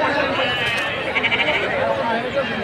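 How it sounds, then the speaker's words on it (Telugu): Sheep bleat amid a crowded weekly sheep market at Pebbair, with several overlapping calls rising over a dense hubbub of people talking close by. "మన పెబేర్ మార్కెట్కి ఈ వారం అయితే గొర్రెపోట్లు బాగా దండిగా అయితే వచ్చినాయి"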